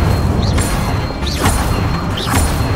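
The Incendio fire spell is cast again and again in Hogwarts Legacy, giving three quick whooshing bursts with short fiery flares at a steady pace over a loud, rumbling game soundscape.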